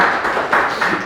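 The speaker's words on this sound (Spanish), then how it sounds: "No estaba pidiendo aplausos." Audience applause at a Spanish book presentation, a brief soft spatter of clapping heard from a short distance.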